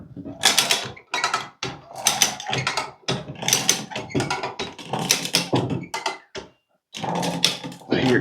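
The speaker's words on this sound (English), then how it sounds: "I hear it creaking" A screwed timber frame joint creaks and strains under load: a close, fairly loud run of irregular crunching, ratchet-like creaks in bursts with short pauses between them.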